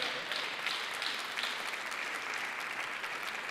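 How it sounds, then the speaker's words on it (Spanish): A church congregation applauds in a steady, even wash of clapping that lasts throughout, fairly soft and distant, with no voices above it. "dele un fuerte aplauso al Señor."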